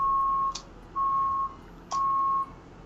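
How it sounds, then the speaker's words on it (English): Three sustained electronic beeps, each about half a second long, sound at a steady pitch in a roughly one-second rhythm, loud and clear over a faint background hiss. "Beep, beep."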